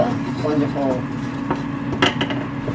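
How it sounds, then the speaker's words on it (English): Onion and spices being sautéed and stirred in a pan, with clinks and scrapes of a utensil against the pan over a low steady sizzle. "I'm going to saute this a little bit"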